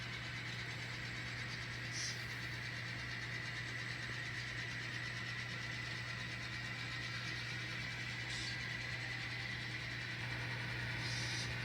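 Two diesel locomotives, a GP38-2 and a GP40, running steadily in a CSX yard during car spotting at a batch plant, giving a constant low engine drone with a steady hum throughout and a few faint higher clanks, no talk.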